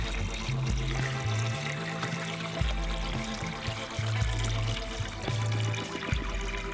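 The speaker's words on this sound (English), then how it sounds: "We tested the system by dumping water into the bucket." Water dumped into a bucket for a pump controller test splashes and gurgles in uneven pours, with a low tonal hum shifting underneath, close and moderately loud throughout.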